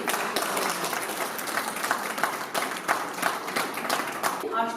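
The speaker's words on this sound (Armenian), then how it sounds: "Եկեք բարձր ծափահարենք" An audience applauds loudly at a kindergarten spring celebration, with dense, steady clapping that lasts the whole stretch and voices mixed in underneath.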